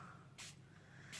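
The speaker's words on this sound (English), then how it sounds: "So this is the fun bit now, the spraying." Two short bursts of spray hiss, one early and one near the end, as water is misted onto dry Brusho pigment powder; quiet and close, no voices.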